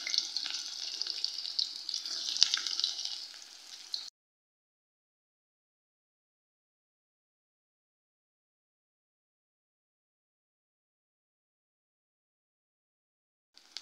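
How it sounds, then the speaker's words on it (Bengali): Chopped onion hits hot oil in a pan, giving a bright crackling sizzle for about four seconds before everything cuts to silence, with a brief return of sound at the very end. "দেখুন প্রথমে আমি পেঁয়াজের কুচিটা দিয়ে দিচ্ছি"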